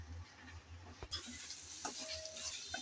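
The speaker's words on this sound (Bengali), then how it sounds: "ভালোভাবে নেড়ে চেড়ে আলু কষিয়ে নিতে হবে।" Potatoes and spices sauté in a pan for a chicken curry, a soft steady sizzle broken by one sharp utensil knock and light stirring scrapes, faint and close, without speech.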